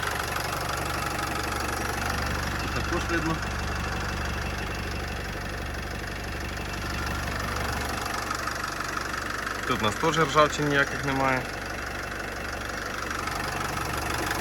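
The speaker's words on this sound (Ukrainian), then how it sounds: "Я думаю, чути, як мотор працює." Steady low idle of a 2014 Renault Trafic 2.0 diesel van engine runs throughout, a smooth even rumble beneath someone talking, with a few brief clicks near the end.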